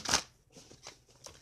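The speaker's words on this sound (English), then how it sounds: "Now, divine spirit says one more shuffle." A deck of oracle cards is shuffled on a table: one sharp riffling burst, then several softer flicks and card slaps in quick succession, close up with no talking.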